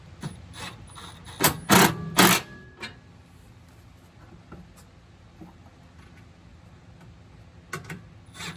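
A ratchet with a 7/16 socket tightens bumper mount bolts, giving a rapid series of close, crisp clicking bursts early on, a few isolated clicks after, and quiet fiddling between them.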